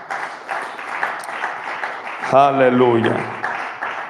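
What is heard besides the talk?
congregation applauding in church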